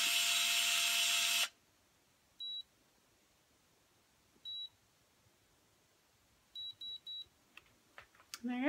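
A Tulip Instyler Auto Curler gives a series of short, faint electronic beeps, one at a time and then three in quick succession, after a loud whirring burst at the start; a voice begins at the end.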